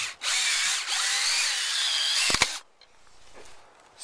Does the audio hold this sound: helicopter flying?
no